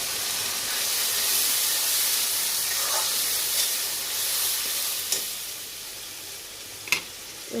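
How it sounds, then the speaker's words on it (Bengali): Tomato and green chilli paste sautés in a hot pan, a close, steady sizzling hiss with faint stirring and a few sharp pops and scrapes toward the end. "এরপর দেবো টমেটোর, কাঁচা লঙ্কার পেস্ট।"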